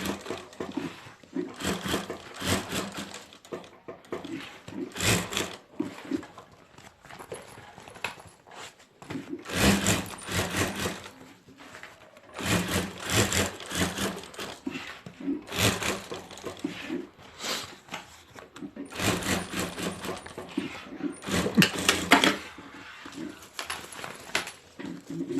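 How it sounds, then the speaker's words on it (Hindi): A sewing machine stitches over the zip strip of a handbag, sounding in repeated bursts of rapid, rhythmic needle clatter separated by short pauses, fairly close and loud. "इसको पलटा कर हम यहाँ एक जिप पट्टी के ऊपर एक सिलाई कर देंगे"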